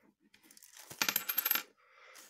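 A silver 1930 10-kopeck coin drops onto a hard surface, giving a burst of bright metallic clinks and bounces over about half a second, loud and close, with quiet near-silence before and after.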